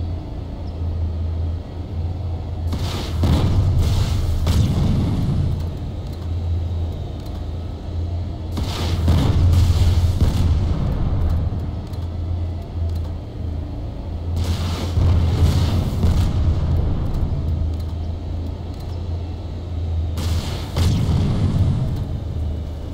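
ASP-30 Grounder rockets striking a Liberator vehicle in a video game, four heavy booming impact bursts spaced about five to six seconds apart over a constant low engine rumble.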